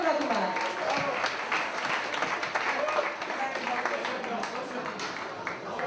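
Audience applause rings out for volleyball player Kassandros Stigkas, number 12, a steady wash of clapping and crowd noise that carries on for the full stretch without fading.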